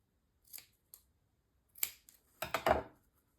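Scissors snip through paper photo mats in a handful of short, crisp cuts, a few isolated then a quick cluster of three near the end, close and with no talking.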